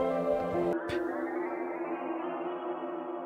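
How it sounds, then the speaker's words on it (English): A sustained, washy musical tone from a song with heavy reverb, notes blurring into a long echoing tail after a brief break; no voices. "With the reverb now traveling back through the memories."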